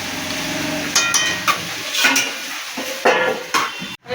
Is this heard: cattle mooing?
no